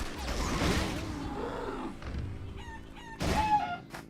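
Chickens in the video game Eternal Return make clucks and a rooster-like crow. The calls are short and broken over game noise, with a sharper call near the end.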